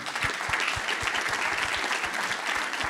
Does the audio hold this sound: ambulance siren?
no